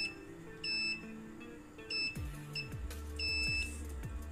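Continuity buzzer of a multimeter beeping as three capacitors on a Samsung Galaxy S10+ board are probed, a series of short, high, close beeps in an irregular rhythm, with no talking.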